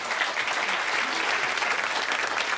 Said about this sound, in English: Clap for that. A little Wimbledon clap.